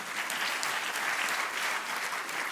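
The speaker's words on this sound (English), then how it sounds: "yeah, you can clap" Applause from a large keynote audience for Mike Duggan at a conference, a steady, even roar of many hands clapping throughout, fairly close and full, with no speech over it.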